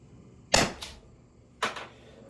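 Two sharp pops ring out from a Byrna less-lethal launcher being fired, the first followed by a quick echo-like second burst, then a single shot about a second later, close and loud against a quiet background.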